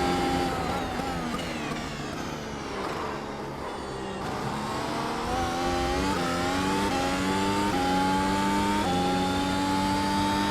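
A Mercedes W12 Formula 1 car in the iRacing simulator, its engine howling at high revs with steady whining harmonics that dip and climb again as it shifts and accelerates, loud and continuous throughout.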